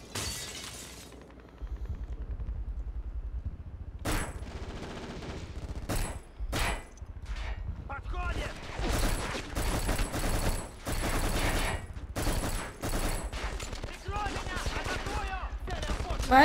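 Gunfire in the PlayStation 2 shooter Black, repeated loud bursts of automatic fire and single sharp shots mixed with shattering glass and debris, coming in uneven clusters with brief gaps over a long stretch.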